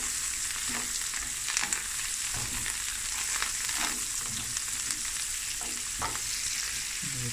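Onions and peppers fry in a pan with a steady, close sizzle throughout, broken by occasional scraping stirs and soft clinks, with no talking.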